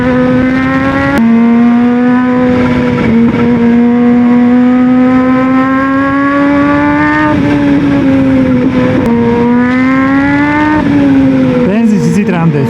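A Kawasaki ZH2 motorcycle engine roars loud and close, its pitch climbing steadily through long pulls with brief dips between gears. A voice comes through faintly beneath the engine.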